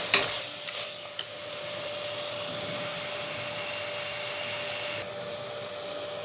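Tomatoes and masala sautéing in a pan for mutton biryani, a steady even sizzle with a few stirring scrapes at the start, close and continuous without talk.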